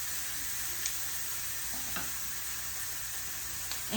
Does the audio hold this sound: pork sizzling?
yes